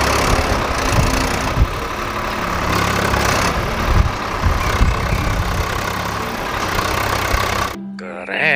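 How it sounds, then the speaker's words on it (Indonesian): A tractor's diesel engine idles steadily with a low, continuous rumble, close and loud, before cutting off abruptly near the end. "Widih, ada traktor."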